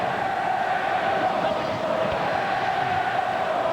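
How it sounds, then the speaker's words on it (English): Hockey crowd at a 1995 New York Rangers versus Washington Capitals game chanting at a Capitals fan in the stands, a steady, dense wash of many voices filling the arena throughout. "Fans getting on a Washington Capitals fan in the crowd. Serenading him."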